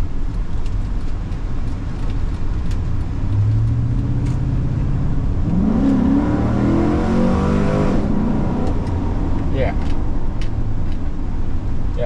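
Chevrolet SSR pickup from 2005 with a 6-liter V8, its engine rumbling steadily and then swelling in a rev around the middle before settling back, heard close and loud throughout.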